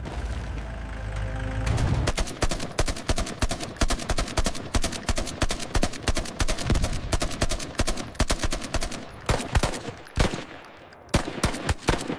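Rapid bursts of loud gunfire, sharp repeated shots and automatic volleys crackling over a rumbling background, with short gaps between bursts.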